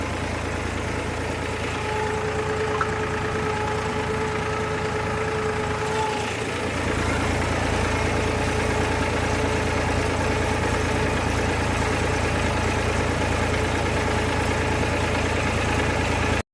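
Tractor engine running slowly while levelling a farm field: a steady low diesel drone, close and continuous, getting a little louder and rougher after the first few seconds, with no voices.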